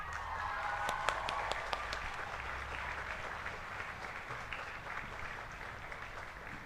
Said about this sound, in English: please join me in a round of applause to welcome our Salutatorian, Maggie Shien.